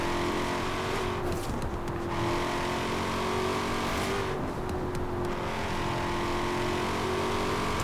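A modified 2020 Shelby GT500 in Forza Horizon 4 with its stock 1175 hp engine, a loud, sustained engine roar with shifting pitch, brief gear-change dips and a few tyre squeals.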